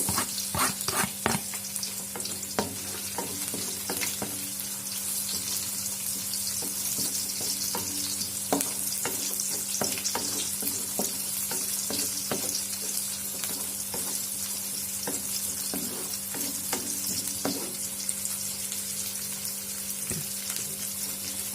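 Bird's eye chillies fry in a pan with a steady, close sizzle, while a utensil stirs in repeated scraping taps throughout, with no talking.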